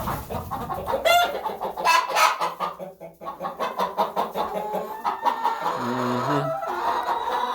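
Laying hens cluck in a flock fed cracked corn, a near, busy mix of repeated clucks and short calls, with a few louder squawks over a steady background.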